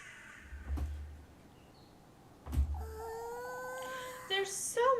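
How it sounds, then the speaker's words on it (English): Crows caw in the video game Little Goody Two Shoes, a few harsh calls repeating over a soft ambient background, with a couple of dull thumps earlier. "There's so many crows. What is this? What are these crows doing here?"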